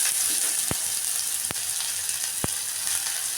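Onions and green chili fry with black cumin seeds in hot mustard oil, a steady close sizzle broken by three sharp, evenly spaced clicks.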